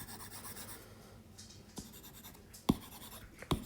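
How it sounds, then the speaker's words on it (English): Written maths work on a board is erased with soft, close rubbing strokes, broken by a few sharp knocks of the eraser against the surface, with no talking. "so I'm going to erase this part."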